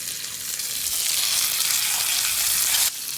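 Pork belly grilling in oil, a loud, dense, steady sizzle close by that cuts off abruptly near the end, no talk.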